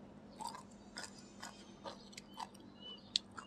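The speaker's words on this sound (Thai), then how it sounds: "บักม่วงแซ่อิ่มมันสิกรุบๆกรอบๆกรุบ" Close-up chewing of crunchy pickled mango, with crisp bites and squishy crunches repeating about twice a second, faint but intimate, and a sharper crack near the end; nobody speaks.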